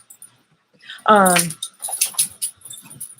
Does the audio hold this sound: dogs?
yes